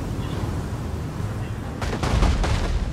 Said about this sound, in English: there's the cannon shots